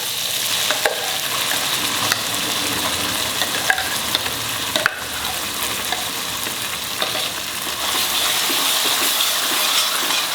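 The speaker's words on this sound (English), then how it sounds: "reduce the flame and fry the masala well" Ground red masala fries in a pan for an egg curry, a steady close sizzle with occasional stirring clinks and light crackles.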